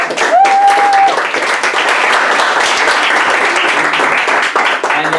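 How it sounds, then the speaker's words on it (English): Steady, dense applause from a room of people fills the whole span, a round of clapping for the chairperson at a World Schools Debating Championship round. "can we just get a round of applause for our chairperson?"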